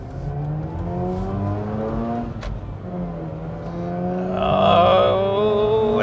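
A 2004 Mazda RX-8 rotary engine revs hard under throttle, pitch climbing in smooth harmonic sweeps, briefly dropping and rising again to a louder, higher wail near the end, heard close with no talking.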